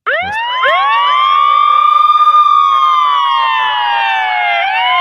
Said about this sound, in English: We got to have the siren now.